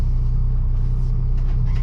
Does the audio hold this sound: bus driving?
yes